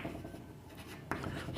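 A hand writes out a math solution on paper, with quiet, close scratching strokes and a brief firmer rub near the end.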